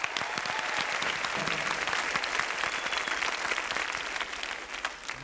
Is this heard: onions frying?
no